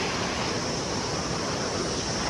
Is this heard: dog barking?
no